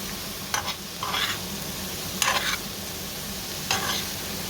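Cabbage and mushrooms with onion and carrot fry in chicken fat under a constant sizzle, broken by three bursts of close scraping as they are stirred in the pan.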